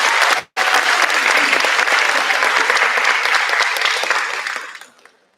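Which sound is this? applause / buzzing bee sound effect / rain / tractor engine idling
applause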